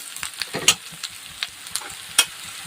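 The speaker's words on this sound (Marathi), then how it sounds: "छान कांदा छान असा तेलामध्ये भाजला गेलेला आहे" Onion frying in oil with peanuts while being stirred for kande pohe, a soft steady sizzle broken by sharp scraping clinks of the spoon against the pan, close and quiet with no talking.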